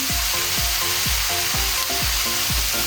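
Ginataang pinakbet with bagoong being stirred in a pan, a steady loud sizzle under regular scraping strokes of a utensil against the pan, repeating roughly every half second.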